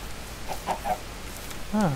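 A few short, quiet clucks from a chicken in Minecraft, spaced apart, ending with a slightly louder drawn-out cluck, faint against a soft background hiss.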